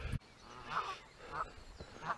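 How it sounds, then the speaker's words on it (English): Geese honk at Testwood Trout Fishery, three separate calls spaced evenly apart, fairly faint and somewhat distant in an open outdoor setting. "Morning geese."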